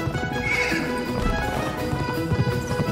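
A horse neighs and whinnies loudly amid hoof clip-clops and game music during a boss fight in the action game Pumpkin Jack, the sound dense and continuous throughout.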